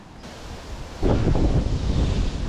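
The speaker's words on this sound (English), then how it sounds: "this wind blowing into us is probably do us good" Strong wind gusts over a microphone beside a fishery lake, a broad rushing roar that surges suddenly louder partway through and stays heavy, with no voices.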